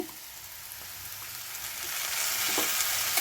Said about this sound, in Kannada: ಇವಾಗ ಹಾಗಲಕಾಯಿ ಚೆನ್ನಾಗಿ ಫ್ರೈ ಆಗಿದೆ ಇವಾಗ ತೆಂಗಿನಕಾಯಿ ರುಬ್ಕೊಂಡಿರೋದನ್ನ ಹಾಕ್ತೀನಿ